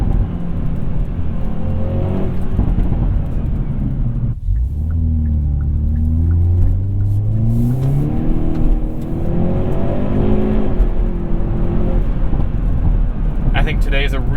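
A 2021 Hyundai Veloster N with a dual-clutch gearbox accelerates hard from inside the cabin, its engine note climbing steadily through the gears with a brief cut at an instant upshift, loud and continuous with road rumble beneath.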